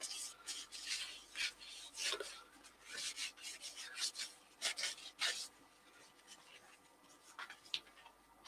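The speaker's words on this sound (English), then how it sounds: "Rub it in with the lathe stationery." Yorkshire grit rubbed by hand into a cherry branch held on a stopped wood lathe, a soft, close scratchy rasping in uneven strokes, fairly quiet.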